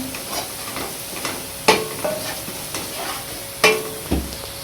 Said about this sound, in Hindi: इसमें डालूंगी नमक, 1 चम्मच नमक की डाल दी, और इसको फ्राई करूँगी